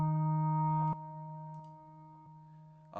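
A smooth synthesized bass plays sustained low tones, one long note shifting to another, clean and steady with no other instruments or voices.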